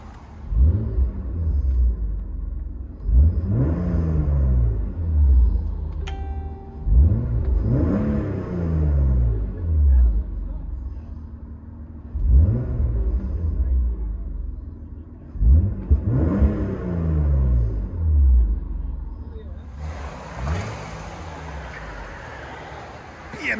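Heard from inside the cabin, a 1995 BMW M3's 3.0L inline-six with dual exhaust and no resonator revs hard several times in a row, each pull rising in pitch before dropping off between shifts.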